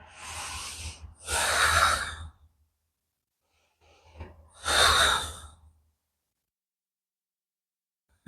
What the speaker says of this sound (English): Taking 3 more breaths here.